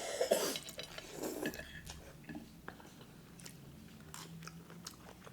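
Close crunchy chewing of a frog dish topped with peanut bits, with a few sharp bites and a cough early on, then softer steady mastication and light clicks.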